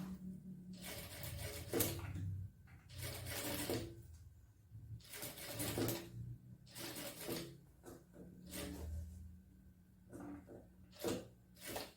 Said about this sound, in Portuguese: E vou vir e vou fazer a costura aqui.